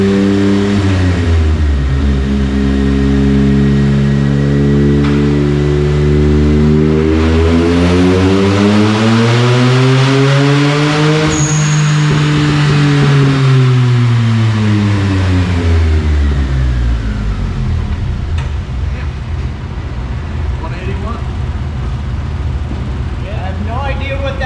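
Turbocharged car engine pulling hard with the wastegate open, loud and close, revs climbing steadily then falling back, with a brief high whistle near the peak and voices talking over it.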